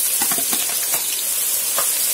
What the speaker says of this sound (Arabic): دلوقتي ماما بقى تحط البصل في الحله